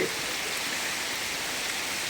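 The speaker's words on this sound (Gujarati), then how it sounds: "આજે મોરબીમાં વરસાદ ચાલુ છે" Steady rain falls in Morbi, a dense, even hiss of drops on surfaces, close and constant through the whole moment with no voices.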